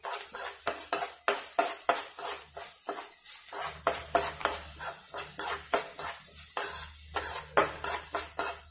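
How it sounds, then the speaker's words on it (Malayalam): Chicken roast masala with ginger garlic paste and green chillies is stirred in a pot, a steady run of scraping spoon strokes and metallic clinks over a faint low hum, close and fairly quiet. "ഇനി നന്നായിട്ട് ഇളക്കി കൊടുക്കുക"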